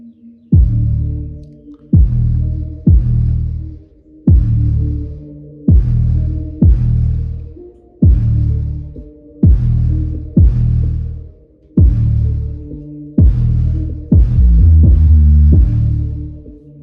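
A Precision Power ICE2600.1D amplifier driving car audio speakers with very loud, deep bass: heavy booming low notes pulsing in a steady beat-like rhythm, each hit sustained and rattling, close and overpowering with no voices.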